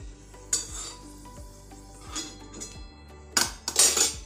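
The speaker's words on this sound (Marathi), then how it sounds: "आता हे तळायला घेते." Puris frying in hot oil, with a steady low sizzle broken by several sharp bursts of crackling and clinking from a pan and utensils, loudest near the end.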